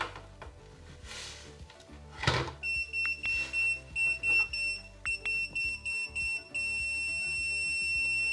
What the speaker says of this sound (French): j'ai bien une continuité car mon multimètre bip